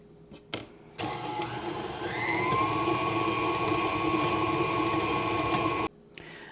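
An electric mixer creams sugar and butter for apple bread, whirring loudly and steadily for about five seconds, its pitch rising once it speeds up, then cutting off abruptly.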